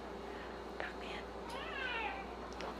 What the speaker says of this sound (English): Look at this cute little kitty.